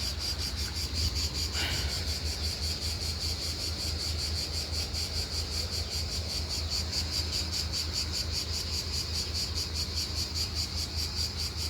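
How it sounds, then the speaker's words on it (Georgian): Crickets chirp in a dense, continuous pulsing trill outdoors near a vegetable garden, loud and steady throughout with no speech. "დედა ჭრიჭინები რა ჭრიჭინობს"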